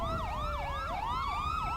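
A police siren wails in GTA 5, its rising and falling electronic tones cycling rapidly and loudly over a low rumble of engine and street noise.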